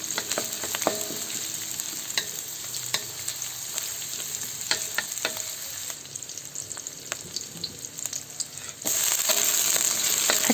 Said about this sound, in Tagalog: ilagay na natin ang hiniwang sibuyas na puti. Ilagay na rin natin ang hiniwang bawang.